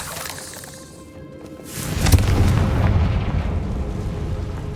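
A Confringo fire spell from Hogwarts Legacy bursts into a loud, rumbling explosion after a quieter lead-in, the boom swelling sharply and then sustaining a heavy, roaring tail for several seconds.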